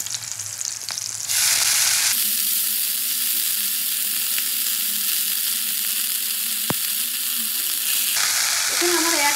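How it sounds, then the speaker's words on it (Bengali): Chopped fenugreek leaves hit a hot pan with green chillies and burst into a loud, steady sizzle that fills the space up close, with a sharp clink of a utensil partway through. "এবার আমি দিয়ে দেবো কুচানো মেথি শাকটা।"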